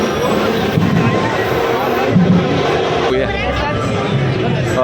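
Dense, steady crowd babble at the Sai Sevak Mandal palkhi procession in Dadar, Mumbai, with many overlapping voices and some street noise throughout.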